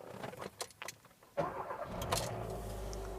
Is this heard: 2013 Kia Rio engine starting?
yes